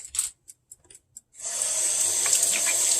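A kitchen tap runs steadily as hands are re-wetted for mixing meatloaf, with a hiss of close water after a few brief knocks.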